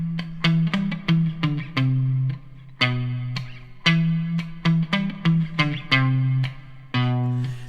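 An electric guitar plays a riff through an octave-down pedal, giving a deep, thick tone as short punchy notes repeat in a choppy rhythm, played alone and close.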